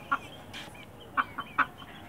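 Two roosters and a hen cluck in short, sharp bursts, about four calls spaced irregularly, close by against a quiet background.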